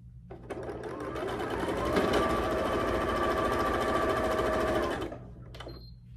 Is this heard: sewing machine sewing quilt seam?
yes